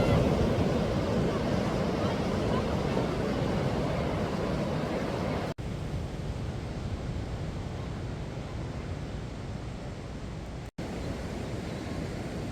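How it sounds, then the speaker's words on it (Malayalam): Steady broadband roar of sea surf washing onto Payyambalam beach, loud and continuous with no pauses, mixed with some wind rumble. "കടലിൻ്റെ ഇരമ്പൽ കേട്ട് കടലിൻ്റെ സംഗീതമൊക്കെ ആസ്വദിച്ച് നടക്കുക"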